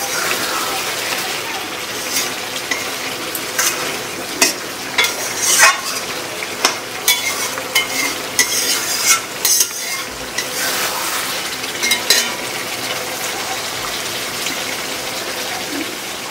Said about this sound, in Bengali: মোটামুটি আমরা এখানটা ভালো করে আগে কষিয়ে নিচ্ছি